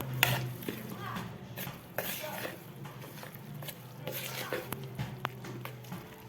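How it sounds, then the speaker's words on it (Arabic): Spoon bread dough being stirred in a bowl: soft, irregular scraping and clinking of a utensil against the bowl, close and quiet, with faint kitchen sounds in the background. "ونبدا نقلب"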